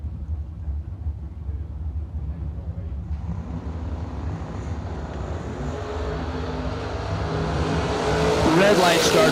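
At a drag strip, a 1967 Chevy II and a 1982 Camaro rumble at a distance, the engine roar swelling steadily louder toward the end, with an announcer's voice faintly over the noise.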